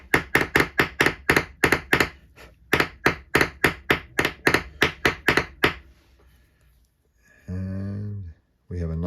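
Repeated sharp taps of a hair stacker settling natural hair ends for a female grannom caddis fly, about twenty quick knocks in irregular bursts, close and loud, then a short quiet gap and brief low humming.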